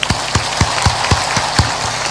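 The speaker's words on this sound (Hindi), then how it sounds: "ऊपर ऊपर ताली बजा दो" An audience at a devotional talk claps in unison with hands raised overhead: about seven sharp, evenly spaced claps in a brisk, steady rhythm, close and loud.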